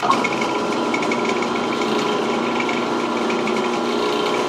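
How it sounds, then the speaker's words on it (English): A steady, close drill whirs continuously as it bites into aluminum, a buzzing high-pitched grind with no pauses. "this is just aluminum, so it should drill real easy"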